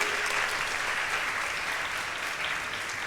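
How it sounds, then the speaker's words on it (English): An audience at a school investiture ceremony applauds after a band and march past display, steady, dense clapping that continues at an even, loud level throughout. "give a huge round of applause for the magnificent display"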